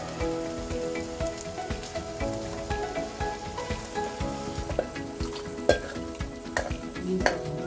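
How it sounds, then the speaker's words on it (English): Gizzard broth goes into a hot pan for a chicken gizzard gravy, producing a close, busy sizzle with bubbling crackles and scattered louder pops, steady throughout with no voices. "So you're going to add our gizzard broth."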